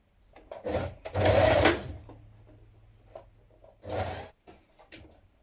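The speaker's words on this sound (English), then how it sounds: "we can edge finish all the way around the outer edge, either overlock or zigzag stitch" A sewing machine stitches dress seams in two loud whirring bursts, each lasting under a second, separated by quieter handling noise and a low hum.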